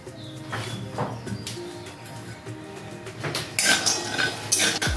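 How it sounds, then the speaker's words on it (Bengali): A small batch of peanuts is fried in a pan for a note shak (amaranth greens) dish, with a rattling, clinking utensil stirring against the pan and a steady frying hiss underneath. No one speaks. "বাদামটা আমি ভেজে নেব"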